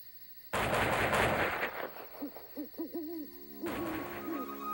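A rapid volley of gunshots crackles in the distance, followed by an owl hooting several times, then another burst of firing.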